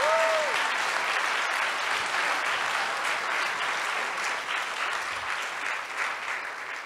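An audience at a Christmas concert applauds, steady dense clapping that slowly fades, with a brief tone at the start.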